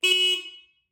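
A single short beep from the horn of a 1970 Honda Trail 70 motorbike, a bright buzzy tone lasting about half a second and fading out, heard alone.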